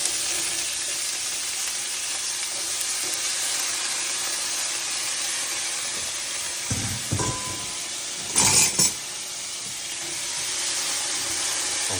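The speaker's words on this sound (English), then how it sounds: "our bacon grease is starting to smoke. I'm going to add in our our potatoes" Steady loud hiss of bacon grease smoking in a skillet for corned beef hash, then potatoes drop in with a couple of clattering bursts before the sizzle settles again.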